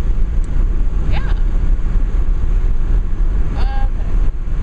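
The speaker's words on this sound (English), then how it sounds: "And it's windy" Outdoor wind rumbles steadily across the microphone on a sunny day, a loud low roar that never lets up, with a couple of brief faint tones rising above it.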